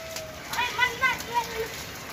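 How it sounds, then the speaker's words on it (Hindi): Rain patters softly and steadily on a rooftop while voices call out faintly in the background. "बहुत सही बारिश हो रही है"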